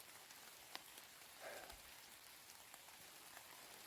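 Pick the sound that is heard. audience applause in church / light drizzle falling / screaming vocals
light drizzle falling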